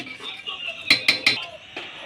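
A spoon stirs vegetarian khichuri in a cooking pot, finished with a spoonful of ghee, giving three sharp metallic clinks in quick succession and a fourth a moment later over faint scraping.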